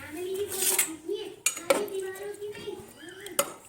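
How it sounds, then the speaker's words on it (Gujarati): Metal cookware clatters as the lid is set on a pressure cooker of rice, a few sharp clinks and knocks close by over a low background hum. "અને ઢાંકણ નાખીને બે સીટી પાકવા દઈશું"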